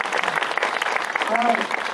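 Audience applause at a film screening Q&A event in Seoul fills the space with dense, steady clapping from a crowd, loud and continuous throughout.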